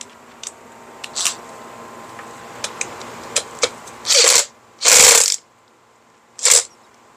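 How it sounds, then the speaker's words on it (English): Bolts being hand-tightened with a ratchet during assembly of a Onewheel Pint X electric board, giving scattered short clicks and several longer ratcheting bursts, close and fairly loud, with no talking. "I am not torquing these down. I am just tightening them, giving them a little pressure."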